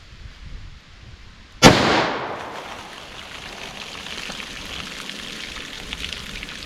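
A single loud .44 Magnum gunshot firing soft point hunting ammunition outdoors, a sharp sudden blast followed by a long fading echo and rumble, with no talk.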